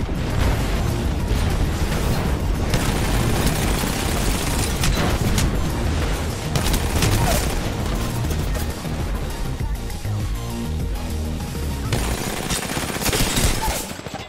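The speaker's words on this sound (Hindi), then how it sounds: "मैंने वहां पे एयर स्ट्राइक डाली एंड इस बंदे को फायर करना शुरू किया" An air strike and gunfire in the battle royale Apex Legends on PC, a dense, loud, continuous mix of rapid weapon fire, booming explosions and mechanical clatter sustained throughout with no gaps.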